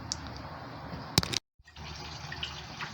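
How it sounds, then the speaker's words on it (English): Coolant drains from the radiator of a 1999 Jeep Cherokee 4.0L, a steady close trickle of liquid. It is interrupted by a brief clatter and a short silence, then flows on. "Alright, I'm draining the radiator."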